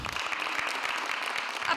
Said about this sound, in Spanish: Aplausos la noche del miércoles en esta cita que reunió el oficialismo